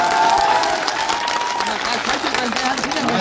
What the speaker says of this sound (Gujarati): આજે પહેલી વાત તો એ બેન માટે જોરદાર તાળીઓ થઈ જાય.